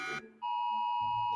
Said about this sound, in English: They all got like freaking Amber Alerts.